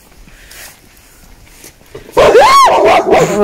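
A dog barks loudly and close by on a winding country path, a burst of sharp, high yelping barks that follows a quiet stretch of faint ambient sound.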